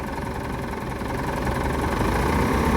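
A Mitsubishi Triton pickup with about 290,000 km on it, under repair for high air-conditioning heat, idles with a steady, loud, even engine rumble and no voices.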